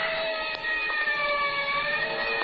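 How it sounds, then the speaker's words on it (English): A wailing siren sounds steadily from a distance, its tone sustained and slightly wavering, with faint background rumble and no speech. "And somewhere in the distance I heard a siren."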